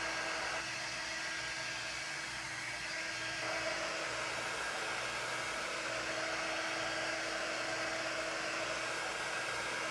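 Hair dryer blowing on a pallet board craft, a continuous steady whooshing hum at close range with a slight shift in tone partway through, no talking.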